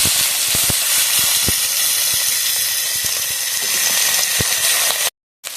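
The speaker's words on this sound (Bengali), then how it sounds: "আগে ভালোভাবে ভেজে নেবো" Crab pieces fry in hot oil in a home kitchen, giving a loud, continuous hissing sizzle with occasional sharp pops and spatters, cutting off abruptly near the end.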